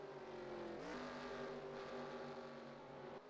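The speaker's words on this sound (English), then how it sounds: "We hear these guys downshifting there into turn 1" Race cars in a racing video game downshift into turn 1 on the Lime Rock dirt track, with the engines' whine dropping sharply in pitch as they blip down through the gears. Their steady, buzzing roar then carries on and cuts off near the end.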